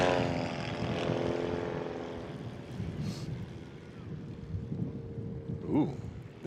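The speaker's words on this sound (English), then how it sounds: "Just flying a plane, just doing his thing." A small STOL airplane flies nearby during Rocky Mountain STOL practice, its propeller engine droning steadily with a harmonic hum mixed with wind noise, faint voices briefly audible in the background.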